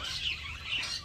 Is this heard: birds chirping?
yes